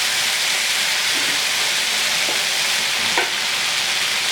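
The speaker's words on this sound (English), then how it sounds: "Just keep stirring it around." Shrimp stew with okra bubbles and hisses steadily in a pot, a loud, broad frying wash with a few faint spoon knocks as it is stirred.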